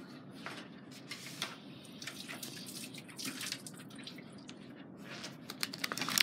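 Water runs from a sink tap in a steady, moderately loud splashing hiss to wet a cloth, with a few clicks and handling knocks over it and no speech.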